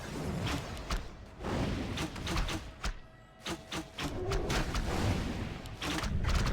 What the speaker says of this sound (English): But the wisps, double detonate, triple detonate, quadruple detonate.